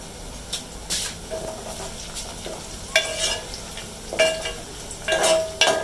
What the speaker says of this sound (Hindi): अभी यहाँ पर प्याज ब्राउन कर रही हूँ।